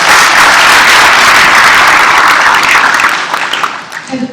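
Loud, dense applause from an audience at a community conversation event thanking the scribes and volunteers, sustained and then thinning out toward the end.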